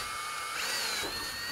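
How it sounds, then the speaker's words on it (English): Power drill boring holes through a metal bracket while fitting a car battery kill switch, a steady high whine held for over a second, moderately loud and close with no talking. "And then we could drill out the other hole."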